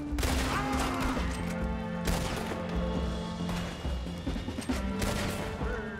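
Rifle shots ring out in Red Dead Redemption II, several sharp, loud cracks spaced a second or so apart, each with a ringing tail, over a dense bed of game sound.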